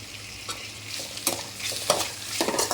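Tomato and salt fry in a pan for mutton gravy, a soft steady sizzle broken by several scraping stirs of a spoon, close and fairly quiet.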